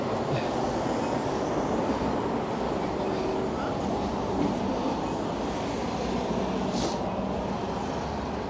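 A train rumbles steadily at a Copenhagen train station, giving a continuous loud, dense roar with faint clatter throughout.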